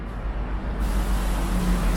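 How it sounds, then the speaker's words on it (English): Ontario Northland bus passing through downtown Toronto city traffic, a broad rumbling engine roar that swells as it goes by, amid general roadway noise. "It's an Ontario Northland bus."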